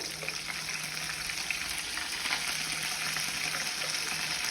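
Garlic, green chili, curry leaves and tomato frying in oil for Andhra-style pappu charu, a steady dense sizzle with faint stirring scrapes, close and continuous with no talk.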